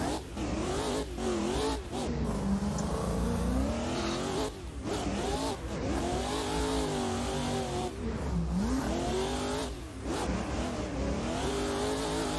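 A car engine revs hard during a chase, rising and falling in pitch with repeated surges and brief drops, loud and sustained throughout, with a hint of tire noise and no talking.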